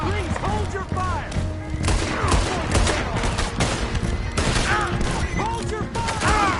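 Heavy gunfire rattles through a shootout in the video game Red Dead Redemption 2, dense overlapping shots and booms under raised voices shouting.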